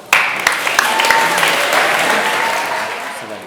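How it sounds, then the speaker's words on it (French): An audience at an eloquence contest final bursts into sudden applause for a candidate, a dense, sustained clapping that starts sharply and holds steady with a few voices underneath. "On peut applaudir Luban."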